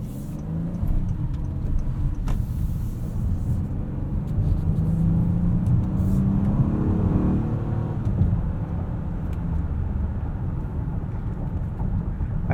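A 2021 Honda Odyssey Elite minivan with a 10-speed transmission cruises along, its engine and road noise forming a steady, moderately loud low rumble that swells slightly midway, with no talking.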